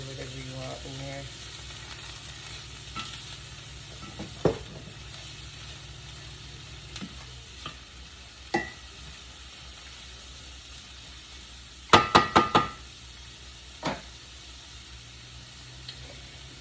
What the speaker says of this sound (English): we're gonna saute those until they're translucent